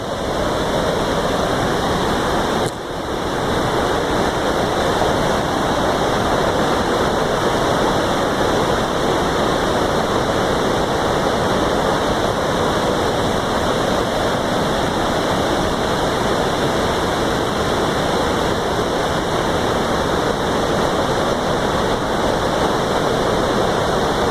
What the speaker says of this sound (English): So we will get a shot of the water for a little bit, some power.